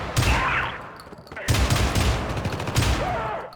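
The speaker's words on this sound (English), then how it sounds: "What we have here is a perfectly good shotgun in every respect" A shotgun fires in the video game Syndicate, three heavy booming blasts spaced about a second and a half apart over a steady background din of gunfire and combat noise.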